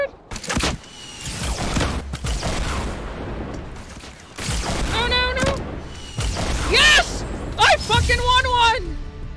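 Gunfire in Fortnite, with bursts of shots and sharp impacts scattered through the clip, and excited voices talking loudly over and between the shooting.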